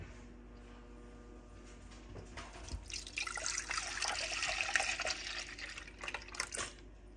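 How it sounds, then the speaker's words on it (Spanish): Milk pours into a pot from a measured batch of four cups. The pour is a soft, close liquid splash that builds into a steady stream for several seconds and then tapers off. "Vamos a poner la leche."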